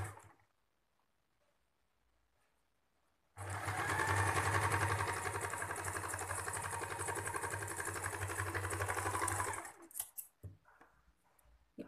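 Sewing machine stitching a folded 3-inch cloth strip for a baby napkin, a steady close motor whir running for about six seconds after a quiet start, then stopping with a few small handling noises.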